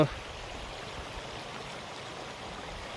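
Steady rushing water flows continuously, a broad even wash of noise from a river running nearby after torrential rain.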